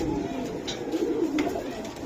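Giribaz pigeons, silver and army types, cooing softly and steadily as a continuous low murmur close by, with no talk over it.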